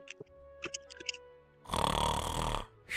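A person's voice imitating a big old ironwood tree snoring, one long rough rasping snore after some scattered quiet sounds, close and fairly loud, with another snore beginning at the end.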